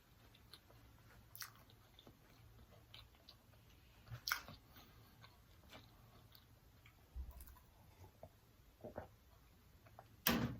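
Buttery scallops from a seafood boil are chewed close to the mic with soft, wet squishing and a few sharper smacking bites, faint and irregular against a quiet room with no talking.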